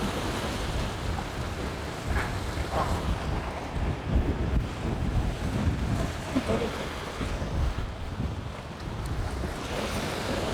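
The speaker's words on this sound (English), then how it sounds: "It's nice and windy." Strong wind buffets the microphone in gusty rushes on a shark fishing charter, with surf and open-water noise beneath it and no voices.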